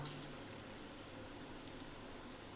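Chicken kofta fries in hot ghee over a medium flame, a steady, even sizzle with faint crackles and no talking, close and fairly quiet.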